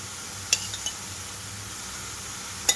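Curd is stirred into an onion-tomato masala in a pan over a low flame, with a soft sizzle underneath and a few sharp clinks from the spoon against the pan.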